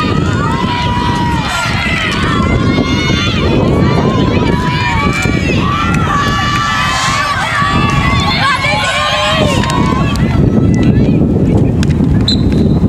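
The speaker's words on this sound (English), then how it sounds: "Very windy here" Steady wind roaring and buffeting across the microphone at an outdoor girls' lacrosse game, with a live commentator talking continuously over it.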